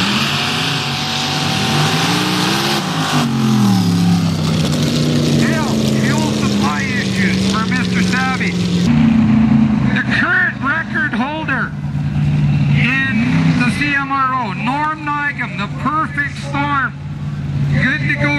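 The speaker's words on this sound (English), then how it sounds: "Crazy Train, Steve Savage, a 540 mud rail" A 540 cubic inch mud rail sand drag racer engine roars and revs in sharp repeated bursts, loud over crowd noise and an announcer's voice at an outdoor sand drag race.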